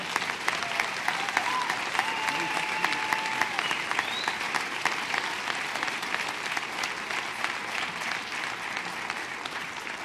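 A lecture audience applauds the speaker with a steady, full round of clapping from many hands that lasts the whole ten seconds at an even level.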